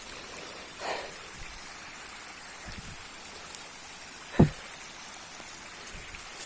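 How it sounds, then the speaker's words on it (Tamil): Rainwater flowing down over rock during heavy rain, a quiet, steady wash of trickling water with a few soft drip taps and one brief sharper splash. "பாறையில் எவ்வளோ அழகாக தண்ணி ஊற்றிட்டு இருக்கு"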